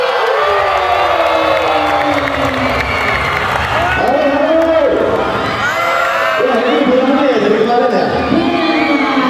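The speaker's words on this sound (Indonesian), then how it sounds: "Berikan tepuk tangan yang meriah untuk Jerome Chloe." A large crowd of new university students cheers, whoops and applauds as a guest performer is called onto the stage at a campus welcome event, loud and sustained with voices shouting over the clapping.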